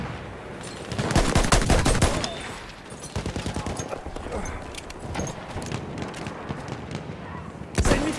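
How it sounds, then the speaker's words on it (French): Enemy machine gun fire in a war video game, sustained bursts of rapid shots with dense battle noise, loud and close, breaking off and resuming across the stretch. "C'est une mitrailleuse ennemie."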